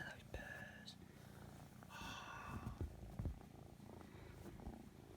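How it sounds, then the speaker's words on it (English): A quiet, rumbling cat purr continues close by while someone speaks softly over it. "Oh, listen to those purrs."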